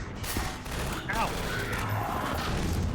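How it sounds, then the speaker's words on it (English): Rapid bursts from Alyx's multi-fire gun in Half-Life 2: Episode One, crackling continuously and loudly through a dense mix of battle noise. "Alyx has got like a little multi-fire gun now"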